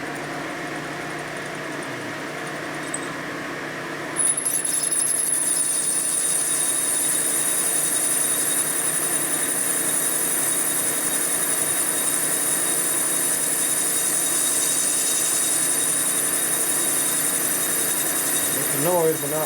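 A drill spins against metal without biting, giving a steady loud whine and hum that starts a few seconds in and holds through to the end, in a garage shop building mock-up panhead Harley race motors.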